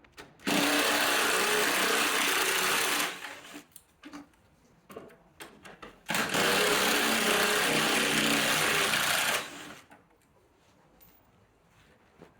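A power tool whirs loudly in two sustained bursts of about three seconds each, removing 8mm headlight bolts on a 2011–2023 Chrysler 300, with brief clicks and rustling between runs.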